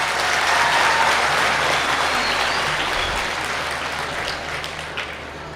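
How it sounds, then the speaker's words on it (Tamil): Loud, dense applause from a large audience at a public talk, continuous clapping that fades slightly toward the end. "ஒரு கைத்தட்டு தட்டுங்க பார்க்கலாம்"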